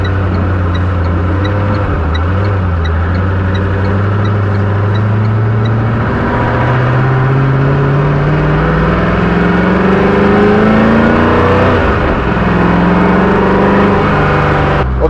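Koenigsegg Agera One:1 supercar driving and accelerating out of town toward the hills, its engine note droning loud and steady from start to finish and rising in pitch as the car speeds up, with no talking.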